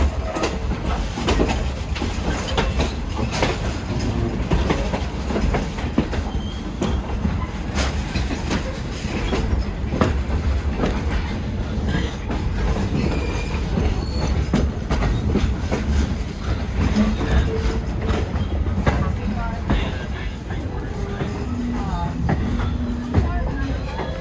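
A train rolling past on the tracks at Strasburg Railroad, a loud, continuous rumble with rhythmic clickety-clack from the wheels, heard close by throughout while people talk occasionally nearby.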